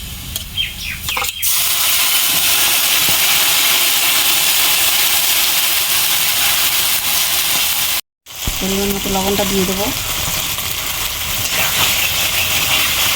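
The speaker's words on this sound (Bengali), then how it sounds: "মশলাটা ভাজা হয়ে গেছে, তেল তেল বেরিয়ে এসছে" Spice paste sizzles steadily in hot oil with browned fried onions for chicken bhapa, a loud continuous frying hiss with brief stirring and a short break, while a voice speaks briefly over it near the end.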